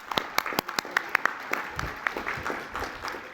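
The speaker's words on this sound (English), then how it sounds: "Those in the crowd. Round of applause." Audience applause at a student association presidents' address, a crowd clapping steadily for about three seconds with sharp individual claps standing out over the dense patter.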